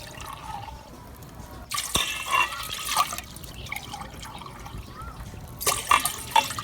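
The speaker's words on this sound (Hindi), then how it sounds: "पतीली में शामिल करेंगे 3 कप पानी," Water pours and splashes into a metal pot for Kashmiri chai, starting after a quiet moment with irregular trickling and a second louder pour near the end.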